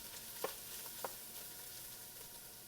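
Garlic sautés with onions and peppers for chorizo chili, a soft continuous sizzle at low level with a couple of brief stirring clicks from a utensil in the pan.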